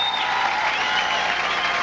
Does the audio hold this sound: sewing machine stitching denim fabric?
no